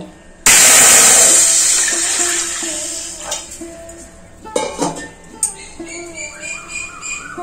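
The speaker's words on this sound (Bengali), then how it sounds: "এখানে ডেচকি বসিয়ে দিলাম। এই ডেচকির মধ্যে দেব জল।" A metal cooking pot is set down with a loud clank, then water gushes and splashes into it, fading to scattered clinks and small knocks of kitchenware.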